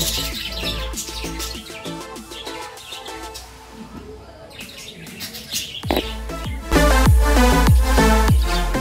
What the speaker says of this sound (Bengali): এখানে সামনে একটা পাখির খাঁচা আছে এবং পাখির আওয়াজ আপনারা শুনতে পাচ্ছেন অলরেডি।